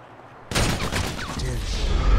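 Machine gun fire in GTA 5, a sudden loud burst of rapid shots that bursts in after a quiet half second and keeps going to the end.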